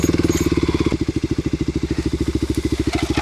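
A Kawasaki KLX250sf motorcycle engine chugs loudly and steadily close to the mic, its rapid even firing pulses forming a strong low rhythmic drone throughout.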